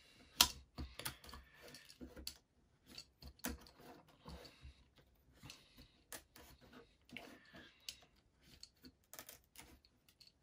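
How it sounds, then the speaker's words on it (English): Wooden toothpicks on a UGears wooden model are snipped off, giving sharp, close, irregular clicks and snaps with quiet gaps between them. "we cut off these toothpicks"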